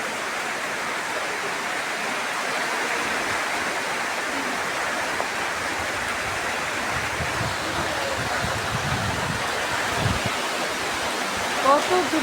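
Rain drawing near after a storm, a constant rushing hiss that stays even in level, with a few low thumps and a voice briefly near the end.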